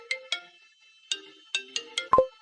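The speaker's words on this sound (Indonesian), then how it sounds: "Telepon berdering." A telephone rings with a chiming electronic ringtone in short tonal bursts, several in irregular rhythm, close and clear against silence.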